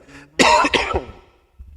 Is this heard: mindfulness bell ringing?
no